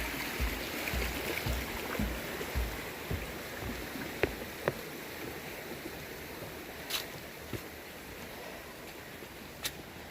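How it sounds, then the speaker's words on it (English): Stream flowing beside the Amicalola Falls trail, a steady broadband rush of water that stays even and moderately close, with a few scattered knocks and clicks over it and no talk. "Good water flow."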